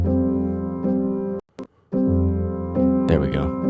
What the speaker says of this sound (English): piano, and it's out of Keyscape.